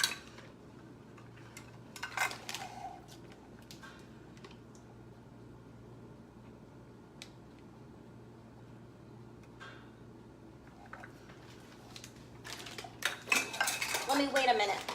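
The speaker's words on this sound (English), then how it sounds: "So we may have to sit here a few extra minutes while I fold all of the ingredients together" Keto chocolate chip cookie dough is folded and mixed in a bowl, with sparse scraping and scattered clinks of a utensil against the bowl over a quiet room, growing into busier, louder clattering near the end.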